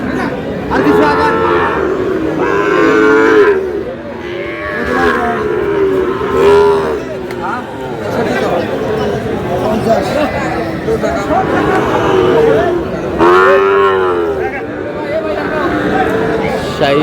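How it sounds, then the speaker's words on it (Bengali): Sahiwal bull calves at a busy cattle market give a few low moos, nearly buried under constant crowd chatter and bargaining voices throughout. "শাহিওয়ালের ষাঁড় বাচ্চা"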